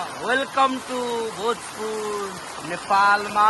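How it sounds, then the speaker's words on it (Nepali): Heavy rain pours down in Bhojpur, Nepal, a steady broadband hiss running under someone talking throughout. "अहिले भने एकदमै ठुलो पानी परिरहेको छ।"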